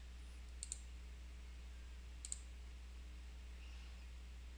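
Two quick double clicks of a computer mouse, spaced a couple of seconds apart, crisp and close in a quiet room over a steady low electrical hum, with no voices.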